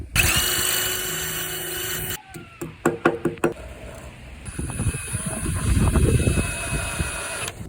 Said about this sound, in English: We're gonna need to drill a little hole